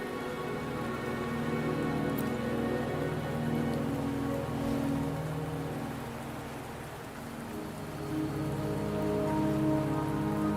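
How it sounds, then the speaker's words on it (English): Steady rain pours down in the game Wuthering Waves, a dense continuous hiss of drops on surfaces holding at an even level throughout, with no voices. "the rain won't last much longer"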